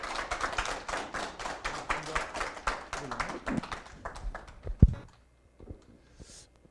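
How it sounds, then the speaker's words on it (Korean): An audience claps to welcome a speaker at an indoor lecture, a patchy round of applause over several seconds that thins out and fades to near silence with scattered taps. "큰 박수로 모시겠습니다"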